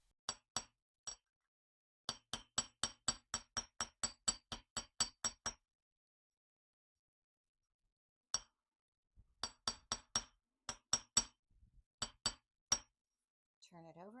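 Small hammer tapping a metal earring piece on a hard surface, sharp clinking strikes in quick steady runs with pauses between bursts, close and clear, with a brief voice at the very end.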